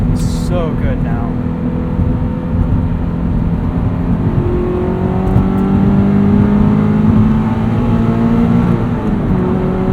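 A Subaru BRZ fitted with a catted FT86 UEL header and OFT tune pulls hard from inside the cabin, a loud, rising engine tone building smoothly over ten seconds with no talk over it.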